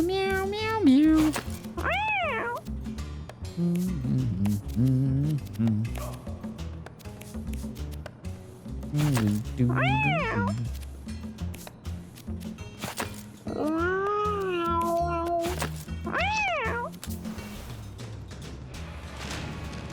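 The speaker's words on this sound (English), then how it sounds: "Meow, meow, meow, meow, meow, meow." Cartoonish cat meows from the Mewgenics video game rise and fall in repeated bursts over a busy bed of game sounds and effects, several meows clustered close together.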